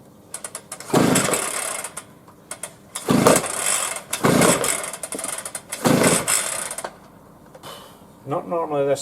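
A small engine with partial choke and a bit of throttle being pull-started, four loud rasping pulls at roughly even intervals that fail to catch, followed by brief talk near the end.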